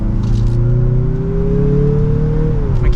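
A 2023 Mazda CX-50 Turbo Premium Plus engine under light acceleration, heard from inside the cabin as a loud, steady hum that rises smoothly in pitch, then eases off near the end, without talk.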